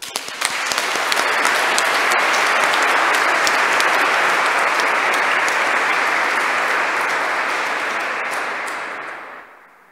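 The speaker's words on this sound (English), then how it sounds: "We could give Carindona a clap." Audience applause at a Pope John Paul II Award ceremony: a full room claps loudly and steadily, rising quickly at the start, holding for several seconds, then tapering off to silence.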